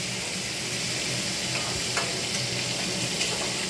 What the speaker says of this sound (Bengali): মাথাটা ভেজে তারপরে শাপলাটা ভাজবো